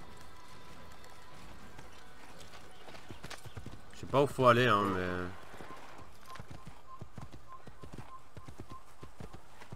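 A horse in the video game Assassin's Creed gives a short burst of loud neighing over a bed of rhythmic hoofbeats. Someone talks throughout, with a light background hum.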